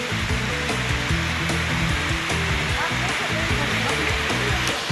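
Steady, loud rush of a waterfall in a Turkish forest fills the scene, a constant broadband roar with some low rumbling, close by and unbroken throughout.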